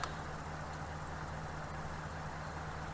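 A Hemi V8 engine with a random multiple-cylinder misfire idles roughly, a steady low rumble with an uneven throbbing pulse, close by and alone.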